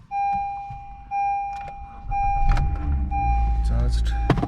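Honda Civic jump-started from a utility battery: a steady key-in warning chime tone, then the engine cranks and rumbles into a loud, low idle nearby, with a few clicks and clatters.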